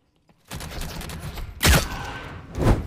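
Gunfire in the video game The Cycle Frontier: a dense, continuous volley of shots with two louder bursts standing out near the end, close and harsh, with no talking over it.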